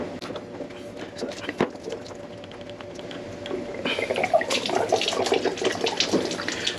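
Water drains and splashes out of a B&G pump during a bearing assembly replacement, a soft trickle at first that turns to a louder, busier gush partway through, heard close with a few clanks.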